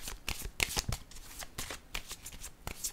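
Tarot cards are shuffled and handled at close range, producing quick bursts of crisp riffling and snapping flicks in an irregular rhythm, with a few soft taps as cards are set down.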